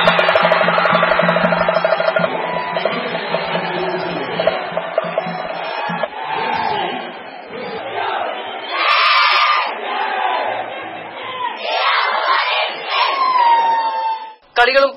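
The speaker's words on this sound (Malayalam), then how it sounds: "കൈകൊട്ടിയും ആർപ്പു വിളിച്ചും അവർ കളികളെ പ്രോത്സാഹിപ്പിക്കുന്നു." A crowd at campus Onam games cheering and shouting, with loud overlapping voices and rising bursts of excitement that swell and fade and keep going without a break.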